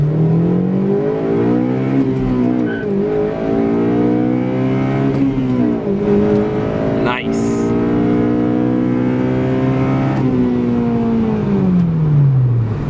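A car engine running Seafoam cleaner revs and strains through rising and falling gears, a loud continuous whine that climbs in pitch and drops back as it accelerates.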